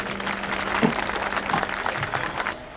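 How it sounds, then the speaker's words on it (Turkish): An audience at a nursery foundation-laying ceremony in Merkezefendi applauds as the mayor is invited to the podium, a brief, fairly dense round of clapping with faint voices that tapers off near the end. "Sayın Şenizuhan'ı alkışlarla kürsüye davet ediyorum."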